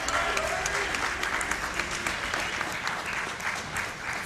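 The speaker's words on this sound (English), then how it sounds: "Let's hear a round of applause for preventing cancer and all the wonderful people that make events like this possible." Audience at a Games Done Quick charity speedrun event clapping for a cancer-prevention donation, steady crowded applause throughout with some faint voices mixed in.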